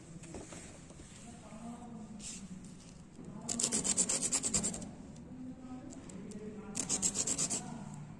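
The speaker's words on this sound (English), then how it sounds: "We use the sandpaper." Sandpaper rubbing on a drafting machine, heard as faint, soft scratchy strokes with two louder bursts of quick back-and-forth rasping in a quiet room.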